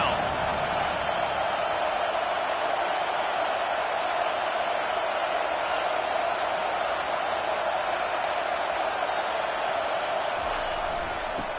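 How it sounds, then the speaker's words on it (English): A football stadium crowd roars during a third-down defensive stand, a dense, sustained wall of noise that holds steady and loud throughout, with faint commentary under it. "Decibels rising as the crowd gets behind this defense on third down."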